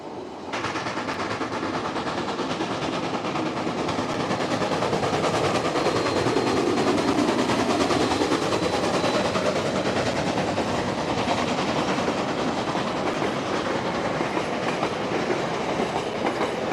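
Steam locomotive 1211 hauls a passenger train along a New Zealand main line, a loud, steady roll of carriages with rhythmic clickety-clack over rail joints and a continuous mechanical rumble, unbroken for the whole stretch.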